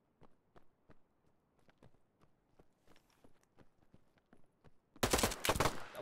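Gunfire in a video game: sharp, separate shots and footstep-like clicks spaced irregularly at low to moderate level, followed by a sudden loud, dense burst of fire near the end.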